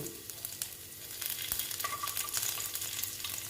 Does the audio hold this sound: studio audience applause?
no